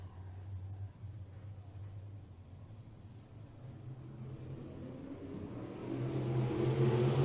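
GM 602 crate winged sprint cars take the green flag at Ohsweken Speedway, a steady engine rumble swelling into a louder, rising roar as the pack accelerates toward the first corner.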